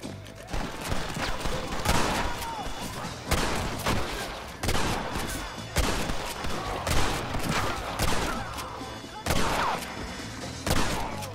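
A gun in Red Dead Redemption fires in repeated loud blasts, a fast string of sharp shots arriving in bursts about once a second, with the sounds of a chaotic battle throughout.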